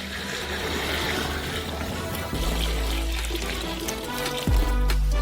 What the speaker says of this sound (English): Fill them with 5 liters of water.